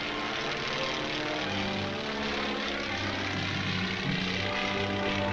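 A light propeller plane flies low overhead, its engine droning steadily with a pulsing propeller beat. The sound is moderately loud and continuous, with no voices.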